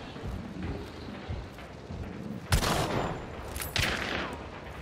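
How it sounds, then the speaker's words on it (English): Video game gunfire during a rooftop battle at Lockbay Docks: two sharp, loud shot bursts stand out over a busy, rumbling background. "Yeah, I'm shooting him"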